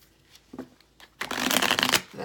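Oracle cards shuffled by hand during a tarot-style reading: a couple of soft taps, then a loud dense riffling burst lasting nearly a second, close up with no speech.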